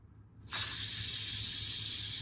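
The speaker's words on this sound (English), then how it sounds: "Let that steam out." A sharp, loud hiss of steam suddenly bursts out of a pressure cooker's release valve after a quiet moment and keeps rushing steadily.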